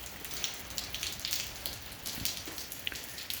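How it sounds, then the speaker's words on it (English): Steady light spring rain patters on a surface nearby, with scattered drips and taps over a soft continuous hiss. "Got a little refreshing spring rain today."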